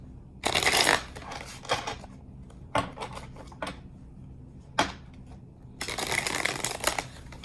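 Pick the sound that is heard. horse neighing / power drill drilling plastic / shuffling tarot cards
shuffling tarot cards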